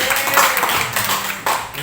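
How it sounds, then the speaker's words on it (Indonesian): A group of teachers at a high school gathering claps together in a dense, steady burst of applause that stays loud throughout, with a sharp fresh surge near the end. "Tepuk tangan Bapak Ibu Guru"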